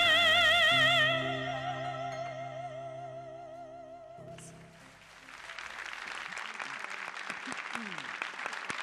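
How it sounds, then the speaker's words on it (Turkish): Audience applause at a Crimean Tatar concert in Ankara rises as sustained clapping from a crowd after a sung melody fades, continuing steadily at moderate loudness. "Alkışlayanlarınız var olsun."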